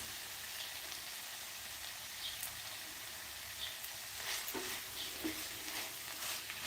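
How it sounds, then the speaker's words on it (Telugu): Cut amaranth leaves frying with turmeric and ginger paste in a pan, a soft continuous sizzle with occasional stirring scrapes and light clinks, close by with no voices. "కట్ చేసుకున్న తోటకూరను వేసుకొని వేయించుకోవాలి"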